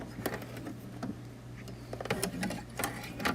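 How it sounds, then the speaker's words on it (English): An embroidery machine sews knockdown stitches in white thread, with rapid mechanical ticking and clicking needle strokes at close range, steady and moderately quiet throughout. "So it's going to do the knockdown stitches first."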